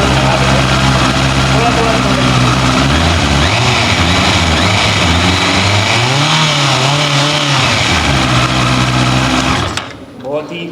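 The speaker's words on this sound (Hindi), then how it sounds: "बहुत ही हैवी जो साउंड है वो आपको CBR 650 में सुनने पर मिलेगा।" A Honda CBR650R motorcycle engine idles loudly and close, a steady buzzy hum with slight rises and dips in pitch, cutting off near the end.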